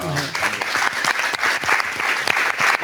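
Audience applause in a French television studio show, loud and close, with dense clapping that swells and dips in waves and a voice briefly heard at the start.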